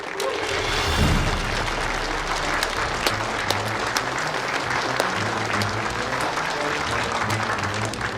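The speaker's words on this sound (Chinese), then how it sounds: "我们用掌声欢迎" An audience claps to welcome a newcomer at a wine cellar gathering, a full, steady round of applause from a sizable group that holds throughout, close and even, with a few sharper individual claps standing out.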